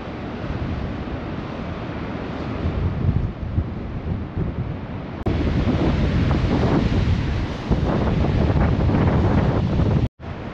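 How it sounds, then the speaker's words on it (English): Choppy high-tide sea at Blackpool on a windy day, a constant roar of surf with heavy wind buffeting the microphone, loud and close, with no talk. "the tide is very choppy yet again in Blackpool"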